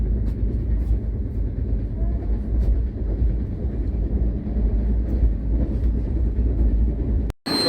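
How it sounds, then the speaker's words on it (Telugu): A train at Guntakal Junction, heard as a steady, loud low rumble of rolling stock running continuously, with a brief drop-out near the end. "ఇదిగోండి నా ట్రైన్"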